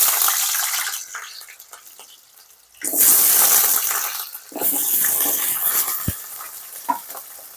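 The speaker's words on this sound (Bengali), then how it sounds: "এবার আমরা আগে থেকে কেটে রাখা আলুগুলোকে ভেজে নেব" Pre-cut potatoes drop into hot oil in a pan with a loud hissing gush, settling into a steady bubbling sizzle with occasional clinks, no talking.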